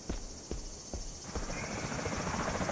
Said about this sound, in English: So, bring that helicopter.